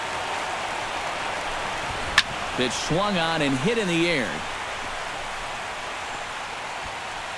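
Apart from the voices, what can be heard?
rain falling in video game MLB The Show 16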